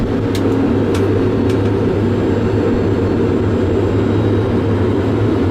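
Boeing 737 jet engines roar steadily through the take-off roll, a loud, dense, continuous rumble heard from the cockpit with no gaps and no talk.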